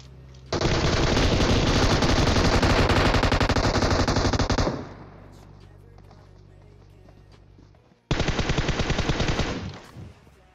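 Rapid bursts of automatic gunfire in the video game PUBG rattle loudly for several seconds, pause, then erupt again in another long volley, with no voices.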